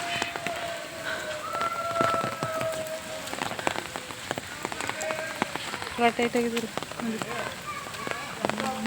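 Rain falls steadily during a monsoon visit to the Nisargadhama nature park, with scattered drop impacts and spatters, while people talk and call out nearby over the wet hiss.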